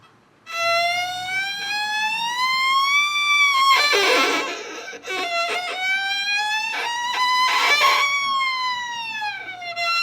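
A bowed violin glides up and down in long wailing tones, mimicking a siren's rise and fall, loud and continuous with short bursts of scratchy bow noise.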